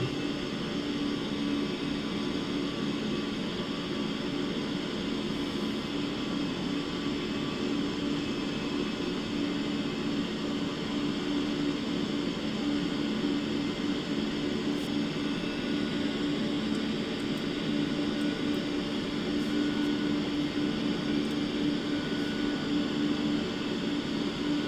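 An airliner's engines climb after takeoff in Microsoft Flight Simulator 2024, a steady loud roar with a constant hum and hiss, unbroken throughout, with no voices.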